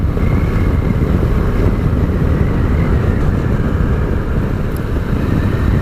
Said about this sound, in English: The only noise that I've got is wind noise.